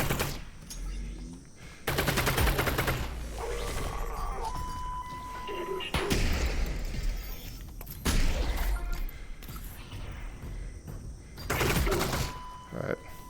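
In the VR shooter Half-Life: Alyx, a gun is fired blind around cover in several sharp bursts separated by pauses, with someone talking between and over the shots.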